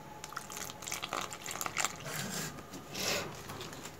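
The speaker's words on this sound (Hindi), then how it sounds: "अब पानी डाल के इसको मिक्स कर लूँगी।" Water is poured into potato pakora batter seasoned with garam masala and baking soda, giving soft, steady splashing and dripping at close range, quiet and with no talking.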